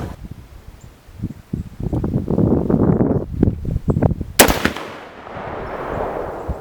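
A single sharp 6.5 Creedmoor rifle shot from a 22-inch barrel firing a high-velocity load cracks out outdoors, preceded by rustling wind and handling noise and followed by a fading rumble.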